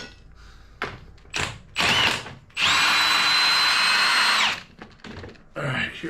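A power tool, likely an impact or drill, spins out the swing arm bolt on a Harley-Davidson Dyna FXDXT being torn down to the frame, with short bursts and then one long sustained whir, and voices talking between bursts.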